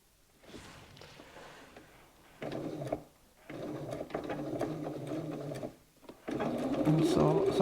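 A sewing machine stitches patchwork diamond pieces in short runs, its rapid mechanical whir starting and stopping several times, with brief pauses and a voice speaking quietly between bursts.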